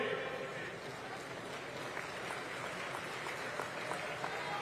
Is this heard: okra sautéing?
no